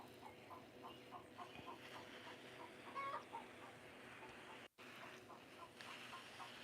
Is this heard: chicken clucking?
yes